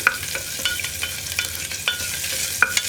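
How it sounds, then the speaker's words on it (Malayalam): Crushed ginger and garlic fry in a pan with a steady hiss while a utensil scrapes and stirs in irregular taps, close and fairly loud, with no voices. "ഇഞ്ചിയും വെളുത്തുള്ളിയും ജസ്റ്റ് ഒന്ന് ചൂടാവുന്നത് വരെ ഒന്ന് ഇളക്കി കൊടുക്കുക."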